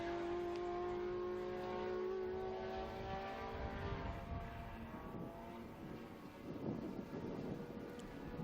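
A historic Porsche race car engine at the Estoril Classics circuit, heard faintly from a distance as a whining tone that fades out, followed by a broad rushing roar mixed with wind noise.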